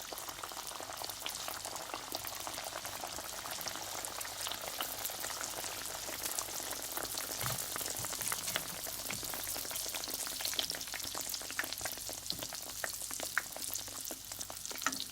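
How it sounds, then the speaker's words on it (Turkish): Dense, steady sizzling and crackling of yeast-free pişi dough frying in hot oil in a pan, continuous and close, with no voices. "Tenceremize yağımızı aldık, kızdırdık. İçerisine yaptığımız hamurlarımızı koyup pişirelim."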